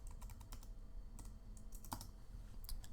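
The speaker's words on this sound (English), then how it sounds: "you can type in a title. You could write something" Close, quick clicks from a computer keyboard as a post title is typed, an irregular run of light keystrokes over a low steady hum with no talking.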